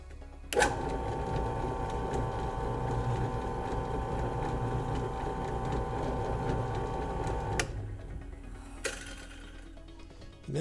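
A drill bit cuts a circle into material for a Boba Fett vambrace, whirring steadily at close range for about seven seconds before winding down, followed by quieter mechanical ticks and a short spin-up at the end, with no talking.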